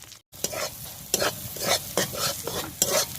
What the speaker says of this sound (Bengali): ওই তেলের মধ্যে দিয়ে দিচ্ছি পেঁয়াজ